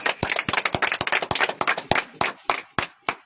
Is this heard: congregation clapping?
yes